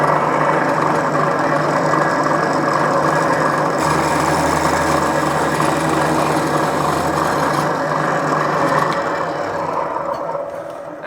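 A power drill whirs continuously and loudly up close, its pitch shifting slightly midway as the load changes, then winding down at the end.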